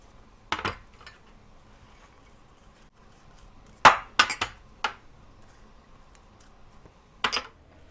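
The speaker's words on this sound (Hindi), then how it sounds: "अब ये जो वेजिटेबल्स थी ये सारी आपने मिक्स कर लेनी किसी बॉल में।" Chopped vegetables mixed in a bowl for a mixed vegetable salad, a few sparse clinks and taps of a utensil against the bowl, separated by quiet gaps.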